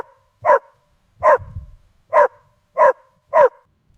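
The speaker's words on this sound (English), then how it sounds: "The dog is barking very loudly." A dog barks loudly and close by, five sharp separate barks at a steady pace with short pauses between them, with no talking.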